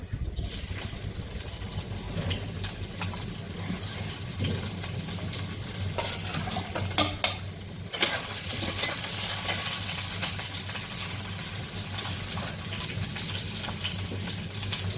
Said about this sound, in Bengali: পেঁয়াজ দিয়ে দিই পেঁয়াজের কাঁচামরিচ ভেজে নিই